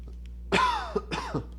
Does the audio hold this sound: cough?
yes